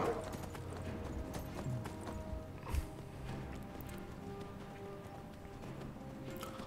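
Horse hooves clip-clopping in Skyrim while riding in daytime, a steady rhythmic trot of game hoofbeats over ambient background, moderately quiet with no talk.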